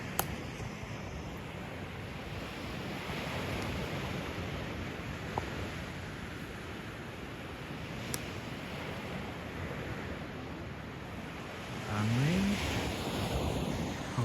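Waves breaking along a Baltic Sea beach in Denmark, a soft continuous wash of surf with wind rumbling on the microphone, faint and distant, swelling slightly louder near the end.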